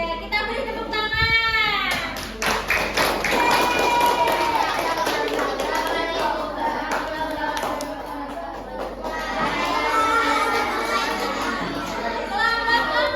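Fourth-grade schoolchildren in a classroom clap together in bursts of patterned clapping, mixed with lively children's chatter and a teacher's voice, fairly close and busy throughout.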